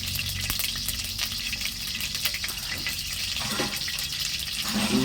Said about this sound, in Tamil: அது தேவையான அளவு கடுகு, சட்டி காந்துது, அதனால் கருவேப்பிலையை டக்குன்னு போட்டுரு.